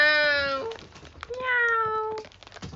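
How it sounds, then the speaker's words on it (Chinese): Domestic cat meowing twice up close, two drawn-out calls separated by a short pause, with light indoor noises around them. "让开，猫咪让开。"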